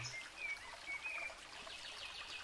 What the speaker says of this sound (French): écoutant le vent, les oiseaux, le ruisseau